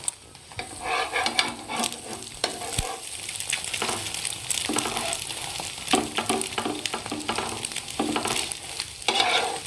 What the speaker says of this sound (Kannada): ಈಗ ಇದನ್ನ ನೋಡ್ರಿ ಹಾಯ್ ಫ್ಲೇಮ್ ಒಳಗೆ 1 ನಿಮಿಷಗಳ ಕಾಲ ಬೇಯಿಸ್ಕೊಳ್ಳೋಣ್ರಿ.